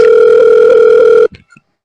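A telephone dial tone sounds loud and steady for just over a second, then cuts off abruptly, followed by a couple of small clicks.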